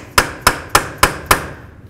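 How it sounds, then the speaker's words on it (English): Five evenly spaced, ringing hammer strikes on a punch drive the axle free from the wheel bearing of a 1998-2002 Honda Accord, close and loud, roughly a quarter second apart, with no voices. "Use a hammer and a punch, break your axle free from the bearing."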